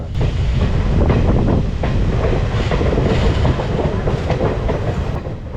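A passenger train on the Kottayam–Kollam–Tenkasi line runs steadily along the rails, with loud, continuous rumble and rhythmic clickety-clack of the wheels heard close up from on board, with no talk.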